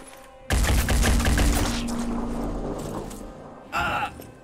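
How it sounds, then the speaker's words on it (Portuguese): Gunfire in the tactical game Phoenix Point: a sudden loud burst of rapid shots that rings out and decays, followed by a second sharp volley near the end. "eu acho que a melhor coisa é só atirar"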